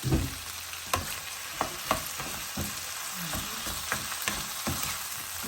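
Tomatoes cooking in a pan for green beans with oyster sauce, a steady close sizzle broken by occasional stirring clunks and sharp pops, with no voices.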